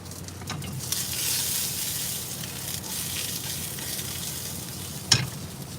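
Onions cook on a hot pan with a continuous moderate sizzle that swells and fades, plus one sharp clatter near the end, and no talking.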